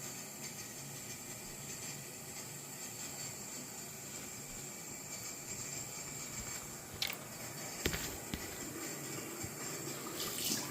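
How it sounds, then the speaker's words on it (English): Water runs from a bathroom sink tap with a quiet, continuous splashing rush, joined by a few brief louder knocks and splashes toward the end. "Add a bit of water to it."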